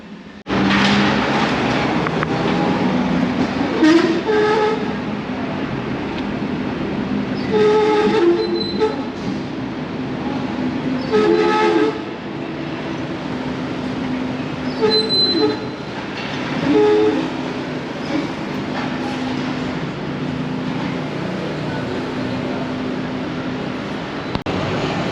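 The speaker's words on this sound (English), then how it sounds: "Currently on a tram" A Hong Kong tram rumbles and clatters continuously from inside the car, with occasional sharper squeals and metallic rings over the steady rolling noise and no talking.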